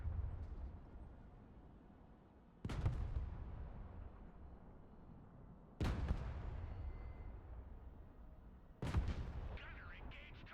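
An Abrams tank fires its main gun in the video game Broken Arrow: three heavy, evenly spaced booms, each followed by a long rumbling decay.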